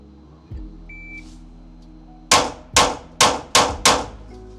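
A Glock 43x pistol fitted with a Radian Ram Jet, After Burner and magwell fires five rapid shots in under three seconds, sharp loud cracks at an even pace after a shot-timer beep, close and without talk.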